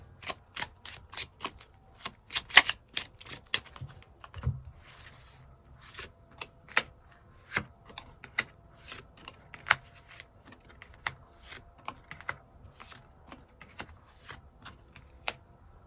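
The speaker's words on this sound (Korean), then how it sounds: "추가 카드 뽑아보도록 하겠습니다" Tarot cards being shuffled and drawn on a table: quick, crisp riffling and snapping card flicks in irregular bursts, close and fairly soft, with no speech.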